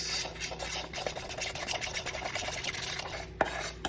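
A spoon scrapes and stirs through fruit salad dusted with Tajin powder and a little salt in a bowl, a continuous rasping, rubbing swish close by, with a single sharp clink near the end.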